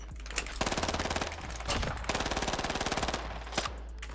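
A VST gun fires in Warzone in long rapid automatic bursts broken by short pauses, loud and close, with a few sharper single reports between the strings of shots.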